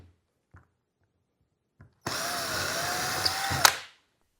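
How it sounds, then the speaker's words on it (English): Power drill boring a pilot hole in drywall for a wall bracket in a garage: a few faint knocks, then one short, loud, close burst of whirring that rises slightly in pitch and cuts off abruptly, with no voices. "drill 3 pilot holes and mount the bracket"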